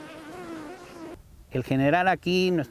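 Bees buzzing around strawberry fields in Mexico, a steady close insect drone that drops out briefly before louder, wavering buzzes return near the listener.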